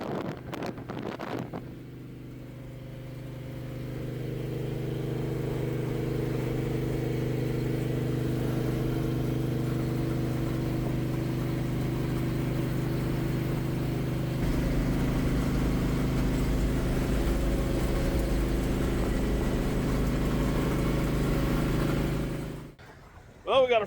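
A blown-up truck driving on the road toward Kansas City, its steady engine drone and tire rumble heard from inside the cab, with wind noise, a shift in tone midway and a clunk near the end.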